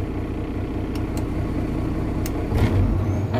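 A Kenworth truck engine runs on cruise control, holding a steady, loud rumble that swells slightly near the end, with a few faint clicks and no talk.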